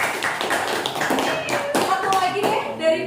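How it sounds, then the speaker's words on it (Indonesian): A classroom of students claps briefly for a classmate, a short, scattered burst of hand claps close by, with voices talking around it. "Tepuk tangan untuk Cahya"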